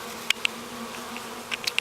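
A small swarm of bees buzzing around a cage outdoors: a soft steady hum with several sharp, close buzzes as individual bees fly past the microphone.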